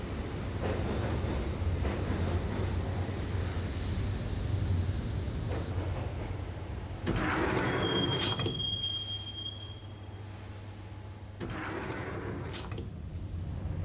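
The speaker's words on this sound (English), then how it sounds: "the train doors had already shut behind me, and I was in for the ride" Subway train ride in the Max Payne video game: continuous rumble of wheels on rails, with metallic squeals and screeching swells rising and falling throughout, no voices.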